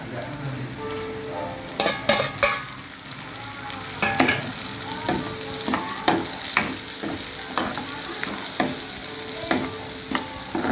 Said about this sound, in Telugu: ఇప్పుడు బాగా వేయించాలన్నమాట